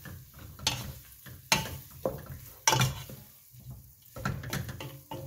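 A spoon stirs andouille sausage and cabbage in a pot for Creole cabbage, making a few irregular scrapes and clatters over a faint sizzle, fairly quiet and close, with no talking.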